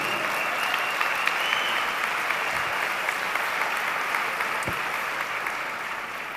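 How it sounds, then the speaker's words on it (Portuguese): An audience at a talk applauds together, a full, even roar of clapping from many hands that holds steady throughout and eases off slightly toward the end. "Pode aplaudir."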